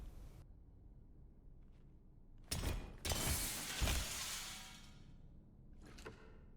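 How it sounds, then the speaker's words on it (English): Glass in a door smashed with a knife in the SCP 5K video game: a sharp crash followed by a long tinkling shatter of falling shards, then a smaller clink a couple of seconds later, against a quiet room. "you can use your knife to break the glass on the door and let yourself out of the room"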